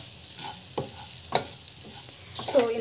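Semolina (rava) sautéed and stirred in a pan for carrot rava kichidi, with soft scraping strokes over a faint background and a few sharper clinks of the spoon against the pan, no talking.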